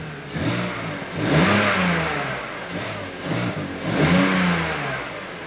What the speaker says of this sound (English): we can see that the RPMs and the load and everything is changing if I give it some throttle